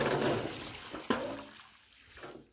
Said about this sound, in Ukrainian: А тепер я виливаю воду в траву.